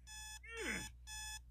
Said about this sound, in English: You have one of those alarms? That is annoying.